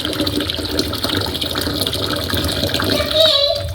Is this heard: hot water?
yes